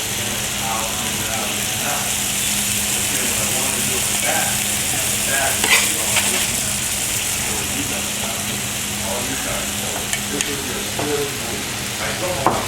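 Bacon fries for a burger with a loud, constant sizzle and crackle, and a person talks over it at times.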